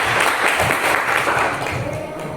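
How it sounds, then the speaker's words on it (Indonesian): An audience applauds a presentation group in a classroom setting, steady loud clapping from many hands throughout, gradually tapering slightly at the end. "tepuk tangan untuk kelompok 1."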